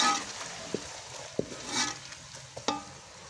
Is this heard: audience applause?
no